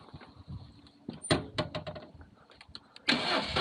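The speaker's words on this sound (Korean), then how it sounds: "시동 걸고요" A motorcycle engine is started during a riding-school lesson on mounting while pulling away: clicks and brief mechanical knocks, then the engine catches and settles into a loud steady run near the end, with no talking.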